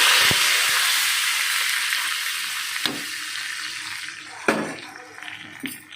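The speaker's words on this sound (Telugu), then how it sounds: "ఇప్పుడు గ్యాస్ ఆఫ్ చేసేసుకుని తాలింపు అనేది దాంట్లో వేసుకుంటే మన సాంబార్ అనేది రెడీ అయిపోయినట్టే" Dried chillies, curry leaves and garlic tempered in hot oil hiss and crackle as they hit a pot of sambar, a steady loud sizzle that slowly fades, with a few sharp pops and clinks.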